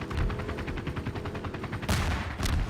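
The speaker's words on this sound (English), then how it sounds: "there's that APC's shooting at you again" Rapid bursts of APC gunfire in a video game, a steady rattling stream of shots followed by two louder blasts near the end.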